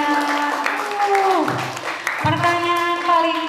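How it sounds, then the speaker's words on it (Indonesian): Audience applause at a school talk show on character and preventing teen drug abuse, a steady wash of clapping from a crowd that carries under and around a speaking voice for the whole moment. "tepuk tangan."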